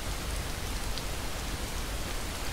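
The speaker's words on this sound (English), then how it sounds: "We get out of the snow only to have it start raining on us." Steady, even rainfall in the video game Skyrim, a dense continuous hiss that fills the whole stretch at moderate loudness, with no voices and no thunder.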